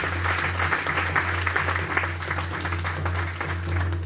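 An audience claps steadily for an award recipient at a radio association ceremony, dense continuous applause over a low steady hum.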